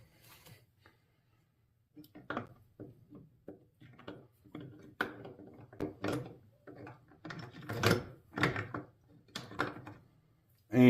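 Metal gears from a Honda CB750 transmission, including a badly worn first gear, clink and ratchet as they are pulled off the shaft and set down. The knocks come as a run of irregular close clicks and clunks, with a little faint talk in the background.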